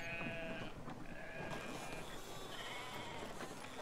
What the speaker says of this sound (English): No, you pick up the sheep.